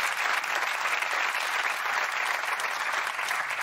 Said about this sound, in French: J'aimerais qu'on applaudisse Issa Donga.